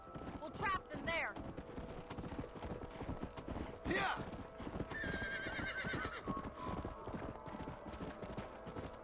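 Hooves clip-clop in a steady galloping rhythm while horses whinny and neigh, with game sound effects from Red Dead Redemption 2 and people talking over it.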